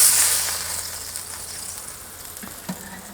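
Meat sears on a Kamado Joe grill for Mexican street tacos, a steady close sizzle that starts loudest and eases slightly, with a couple of faint clicks near the end and no talking.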